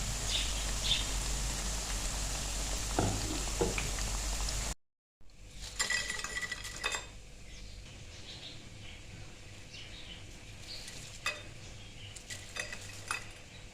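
Cabbage pakoras fry in hot oil with a steady hiss and sizzle, broken by a brief silence, then softer bubbling with occasional clinks of a utensil against the pan.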